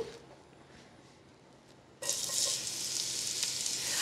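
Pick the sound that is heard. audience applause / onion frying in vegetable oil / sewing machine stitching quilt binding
onion frying in vegetable oil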